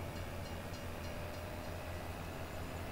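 A train rolls by in Farming Simulator 22, giving a steady, dense rumble with faint rhythmic clatter that stays even from start to finish, heard alone without any voices.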